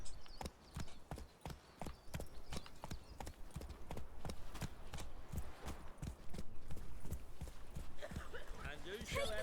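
Roach, a horse in The Witcher 3 video game, clip-clops at a steady walk. The sharp, evenly spaced hoof strikes are close and clear, with some voices and ambient noise coming in toward the end.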